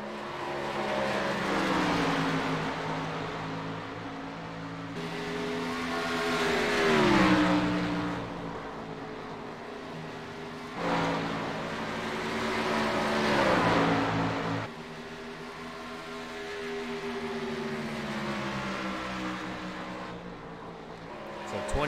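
Race cars circling a track during a broadcast race, engines rising and falling in long howling passes with gear changes, loud and continuous, with a commentator talking over parts of it.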